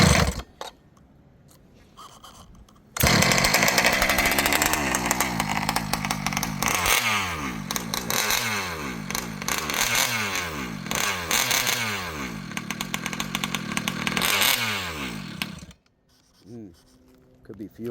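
An ALX 71cc chainsaw engine that runs rich and may be starved of fuel kicks into life after a quiet pause. It roars loudly and revs up and down in repeated surges for about thirteen seconds, then cuts out with a few faint sputters.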